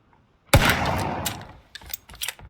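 A PUBG revolver fires one sharp, loud crack that rings out and fades, followed by several fainter, quicker reports in the moments after.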